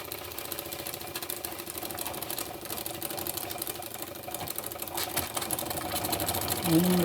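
A 1950s Jensen 70/70 live steam engine runs with a fast, steady mechanical chatter and rhythmic chuffing, holding an even pace throughout.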